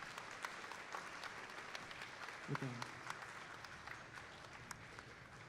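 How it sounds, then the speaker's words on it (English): Audience applause at a FIRST robotics district competition, a steady wash of clapping from a crowd with a brief spoken voice over it. "give FIRST a huge round of applause"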